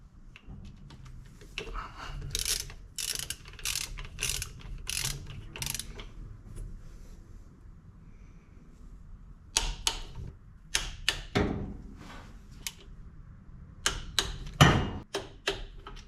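A ratchet tightens the bolts on a ZL1 supercharger pulley during a Griptech 2.45 pulley install, sounding as bursts of quick clicking ratchet strokes separated by pauses, close and fairly quiet, with an occasional louder metallic knock.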